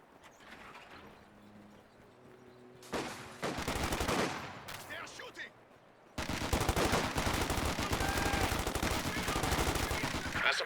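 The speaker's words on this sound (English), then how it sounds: "Down south, we got the MG42 advancing." An MG42 machine gun fires in Company of Heroes 2 battle, starting with a distant sustained rattle that swells into loud, dense automatic bursts, then a long, nearly continuous roar of fire after a short lull, with battle noise around it.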